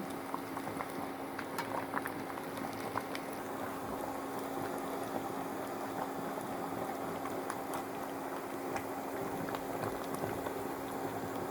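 Jars of pickled cucumbers boil in a pot of water, a steady low bubbling and rumbling simmer that carries on evenly throughout, faint and unbroken, with small crackling pops scattered over it.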